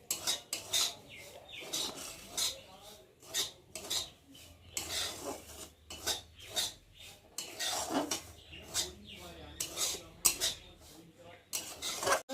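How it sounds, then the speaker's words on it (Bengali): Semolina dry-roasts in a pan without oil while a utensil stirs and scrapes it in repeated rhythmic strokes, close and fairly quiet, with a faint low hum underneath. "প্রথমে সুজিটা ভালো করে তেল ছাড়াই ভেজে নিচ্ছি।"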